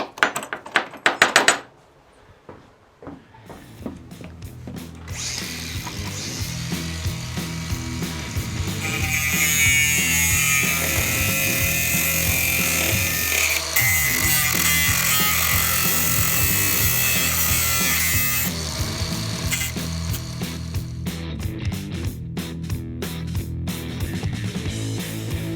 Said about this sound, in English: there's all these things in the floor that need grinding out